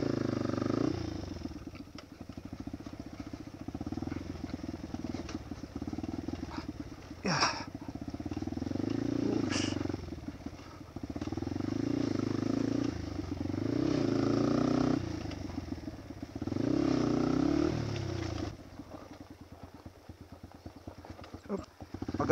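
A motorcycle climbs the rough gorge backdoor road from Malico, Santa Fe to Kayapa, Nueva Vizcaya, its engine close and droning as it rises and falls with throttle changes and clattering over bumps, with voices talking now and then.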